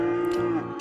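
Imported cattle on a livestock farm in the Cities: Skylines video game give a single clear, sustained moo, close and alone, with faint game ambience.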